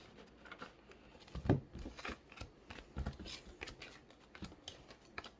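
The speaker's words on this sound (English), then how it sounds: "I like to do this is called a gypsy shuffle" Tarot cards are shuffled by hand in an overhand gypsy shuffle, a quick, irregular patter of soft slaps and riffles, close and fairly quiet.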